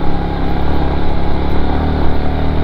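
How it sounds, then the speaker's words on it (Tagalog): A motorcycle engine labours loudly and steadily as the bike struggles for traction on a muddy road in Sitio Bulod, Comaguingking, with a continuous close drone and no pauses. "nahirapan yung ano ng motor."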